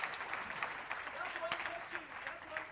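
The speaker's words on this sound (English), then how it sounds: "One more time, a round of applause for our panelists." Audience applause for a panel of speakers at an economic summit, a steady dense wash of clapping from a conference crowd with faint voices mixed in underneath.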